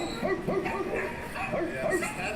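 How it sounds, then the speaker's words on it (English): Small dogs giving a few light yips and barks at a family home while people greet each other, the voices running alongside the barking throughout. "doggies"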